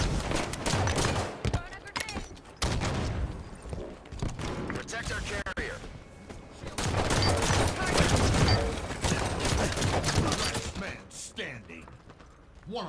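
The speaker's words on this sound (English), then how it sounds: "Watch the enemy fire." Dense, continuous enemy gunfire in a Halo 5 Arena multiplayer match, rapid overlapping bursts and shots sustained throughout over game effects, with voices talking underneath.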